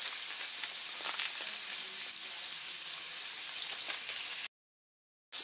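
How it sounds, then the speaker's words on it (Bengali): Potatoes frying in a wok for egg chowmein give a steady, loud sizzle with crackling spatter, continuous for several seconds before a brief silent gap and a return of the hiss. "আলুটা কিছুটা ভাজা হয়ে গেছে"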